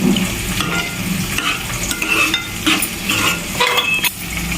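Tomatoes frying in a pan with ginger-garlic paste, a steady loud sizzle with scraping stir strokes and occasional utensil clinks throughout.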